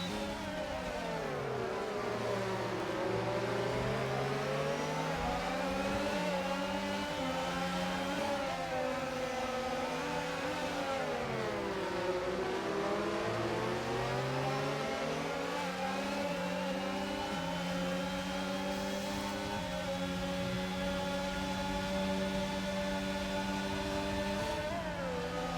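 Formula racing cars from a Ferrari and a Haas wheel-to-wheel in a video game at the Netherlands circuit, a steady high-pitched engine whine rising and falling through gear changes for the whole stretch, loud and continuous with no talk.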